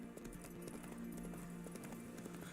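Horse hooves clip-clopping in quick rhythm while riding in The Witcher 3: Wild Hunt, quiet and steady under a faint game soundscape.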